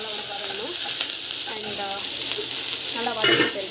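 Okra sautéing in hot oil in a pan with mustard seeds, cumin, curry leaves and crushed garlic, a steady close sizzle with scraping stir strokes throughout, no voices.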